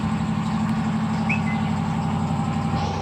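A stock 2013 Fiat 500 Abarth with a turbocharged engine and manual transmission idles after a cold start, giving a steady, even, low hum that holds without change throughout and stays fairly quiet.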